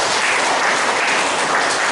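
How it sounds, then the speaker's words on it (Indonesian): An audience claps together at a business school launch event, a dense, even burst of applause filling the whole moment without any voices. "Sekali lagi tepuk tangan."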